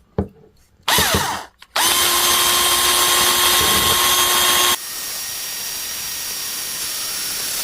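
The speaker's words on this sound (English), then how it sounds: "with my rinkier, dinkier drill gun, another drill gun, is start a pilot hole right here" A brief start, then a loud, steady whine of a small power drill boring continuously, ending with a shift to a lower, rougher grinding tone.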